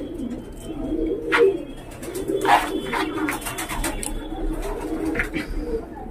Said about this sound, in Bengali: ভিউয়ার্স শুধু পায়রাগুলো দেখো, যে পাকিস্তানি পায়রা তো অনেক দেখেছো